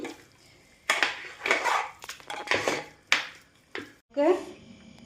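Tempering is stirred into curd rice in a metal vessel, making a series of irregular clinks, scrapes and knocks of a spoon against the pot, close by, with quiet gaps between strokes.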